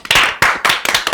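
Three loud, close hand claps in an even rhythm, sharp and bright, for a guest named Nia in a Malay-language podcast studio.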